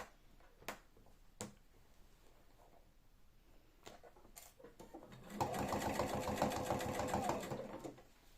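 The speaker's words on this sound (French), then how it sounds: "Et on coud à ras du surjet." A sewing machine stitches a trouser fly right along the overlocked seam, a quiet few handling clicks and taps first, then a fast even run of stitching for about three seconds before stopping.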